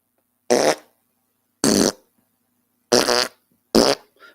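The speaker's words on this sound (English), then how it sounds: "I am making the kangaroo fart." Four loud, separate fart noises from a farting kangaroo novelty wine bottle, each burst about a quarter second long with short silent gaps between them. They sound close and alone, with no talk.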